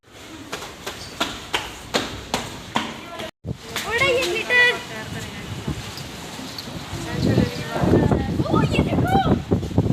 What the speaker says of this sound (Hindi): गाइस बहुत बुरी हवा चल रही है इस वक्त